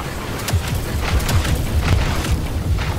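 Rocket barrage explosions from Boba Fett in Star Wars Battlefront 2 come as a rapid string of loud booms and low rumbling blasts, overlapping in a continuous barrage of detonations.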